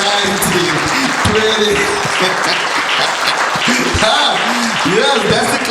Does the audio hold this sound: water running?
no